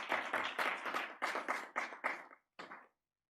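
Audience applause at a corporate AI compliance event: a brief, moderately close burst of clapping in uneven waves that thins out and stops after about three seconds.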